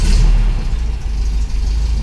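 Car engine starting up and running steadily after a water pump replacement, a loud, continuous low rumble close by with slight fluctuations in revs throughout.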